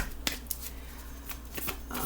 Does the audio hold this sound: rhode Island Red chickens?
no